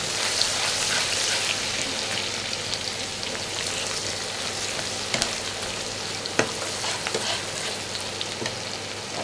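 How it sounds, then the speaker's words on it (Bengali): Onion and chopped garlic frying in a pan for a home lunch, giving a steady, even sizzle with faint crackles and a couple of sharp pops, close and unbroken with no voices. "পেঁয়াজ দিব ভালো রসুন কুচি দিয়ে দিচ্ছি দিয়ে একটু ভেজে নিব"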